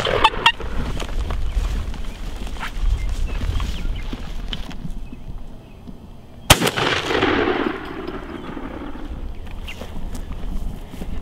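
Gunshots while hunting outdoors, one sharp loud report cutting through the field noise midway, followed by a fading rumble and quieter rustling and movement.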